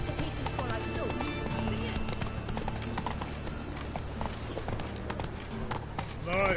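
Roach the horse trotting in The Witcher 3, a steady clip-clop of hooves with a brief whinny, while someone talks over the rhythmic hoofbeats.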